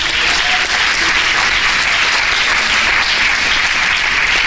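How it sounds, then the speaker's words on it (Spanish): A church congregation applauds in a steady, loud wash of clapping that fills the space without pause, with no speech over it. "Den un aplauso al Señor."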